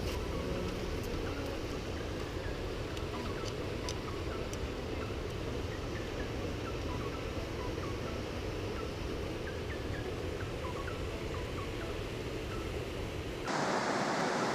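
A mountain river in the Picos de Europa, near Camarmeña and Bulnes, rushes with a steady, full hiss that never lets up, while faint bird chirps sound over the flow.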